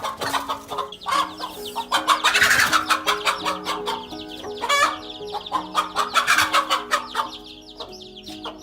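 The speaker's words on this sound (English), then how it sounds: "This chicken will do anything to protect her hens, even taking on a king cobra." A chicken clucks and squawks loudly and close, with agitated, rapidly repeated calls and a few sharper cries, while guarding her hens against a king cobra. Calls continue in irregular bursts throughout.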